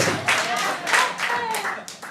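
Audience members at a stand-up comedy show clap in a brief, dense patter of hands at moderate volume, fading slightly over a couple of seconds.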